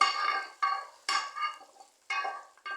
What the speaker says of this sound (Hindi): तो ये मैं इसके ऊपर से तड़का डाल दूँगा।